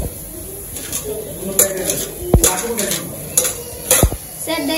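Plates and spoons clinking and scraping as they are handled, with bright metallic ticks and clatters over a steady background murmur at a market stall.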